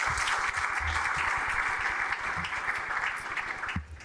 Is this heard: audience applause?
yes